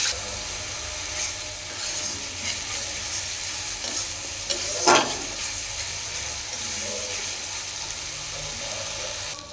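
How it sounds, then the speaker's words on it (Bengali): Onion paste frying in a pan as meat is cooked with ground spices, a steady close sizzle with stirring and scraping throughout and one brief louder clatter midway. "দিয়ে দিলাম পেঁয়াজ বাটা। পেঁয়াজটাকে ভালো করে ভেজে নেব।"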